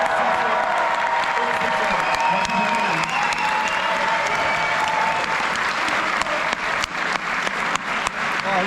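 At a film festival award ceremony, an audience claps and cheers in a dense, sustained wave of applause that fills the room for the full length of the sound.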